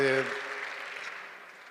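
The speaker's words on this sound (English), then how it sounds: "Round of applause." Applause from a lecture audience swells right after a brief voice, then fades into a steady wash of clapping that tapers off over under two seconds.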